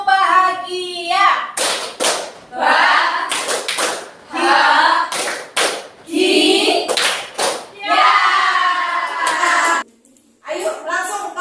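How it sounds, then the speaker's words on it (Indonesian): A classroom of students clapping the 'tepuk bahagia' rhythm, sharp bursts of group claps in a patterned beat, with voices chanting and talking between the clap bursts. "Satu kali lagi coba biar tambah semangat. Tepuk bahagia."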